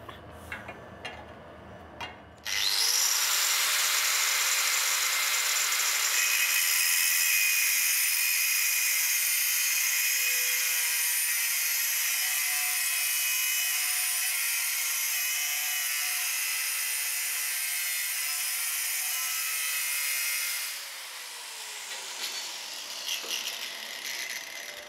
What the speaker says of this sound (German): Jetzt wird das Flacheisen auf die Stablänge von 33 cm gekürzt.